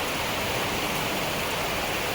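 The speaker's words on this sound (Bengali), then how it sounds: "এই যে নারকেল গাছটা দেখছেন এখান দিয়ে বৃষ্টিগুলো পড়ছে" Steady, dense hiss of rain falling continuously through a coconut palm, even and unbroken, with no voices.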